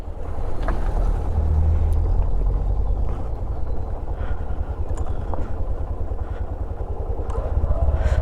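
A 125cc motorcycle carrying a pillion passenger labours along a rough mountain road between Lamahatta and Dawaipani near Darjeeling, its engine a loud, steady, close drone with rumbling low end and no talking.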